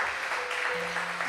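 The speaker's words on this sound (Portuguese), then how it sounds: "Quem pode aplaudir ao Senhor por isso?" A church congregation applauds together during a service, with a dense, steady patter of many hands clapping at moderate distance and a faint sustained tone underneath.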